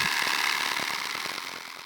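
Tractor-mounted mechanical nylon-string weeder driven from the PTO, giving a steady loud mechanical engine drone with a broad high whir and faint irregular knocks, no voices.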